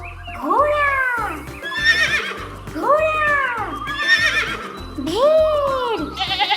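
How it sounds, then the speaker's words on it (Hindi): A cartoon horse neighs in three rising-and-falling whinnies, loud and close, riding over a steady, cheerful children's song beat in a kids' animal-sounds cartoon. "घोड़ा"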